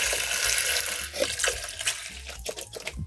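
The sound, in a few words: pouring water into pot of lentils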